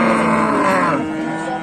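A cow moos loudly and close by in a single sustained call at a livestock sale, lowing steadily and then tapering off, with no talk over it.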